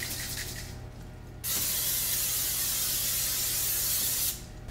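Butter sprayed from an aerosol can onto a baking sheet, with a steady hiss lasting about three seconds, close and loud, after a shorter earlier spray.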